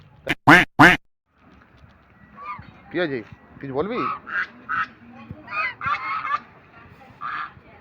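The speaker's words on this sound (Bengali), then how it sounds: "দুটো রাজহাঁস তোমাদেরকে দেখালাম" A brief spoken phrase is followed by a series of loud, nasal honks from two domestic geese, several calls in quick bursts with short pauses between them.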